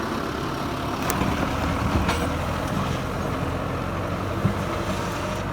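A New Holland TD90D tractor engine runs steadily in a field, a loud, continuous low drone with a few faint clanks on top and no voices.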